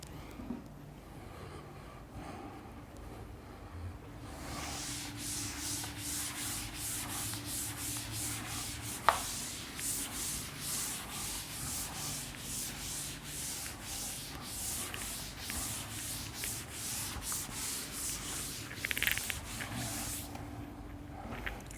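Chalk or marker writing being rubbed off a classroom board during a Class 12 electrostatics lecture, a steady scrubbing that runs for most of the clip with no voice over it.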